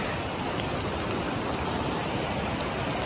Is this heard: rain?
yes